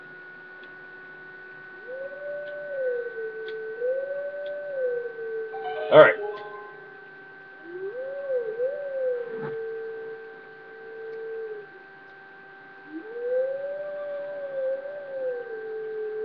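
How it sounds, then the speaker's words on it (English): A wolf howl from the video game The Legend of Zelda: Twilight Princess plays as a few long, clean, wavering tones separated by pauses over a steady hum, with a brief click and a short spoken word between them. "Now let's play the howl."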